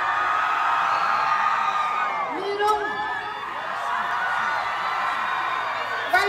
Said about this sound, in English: Let's clap, make some noise,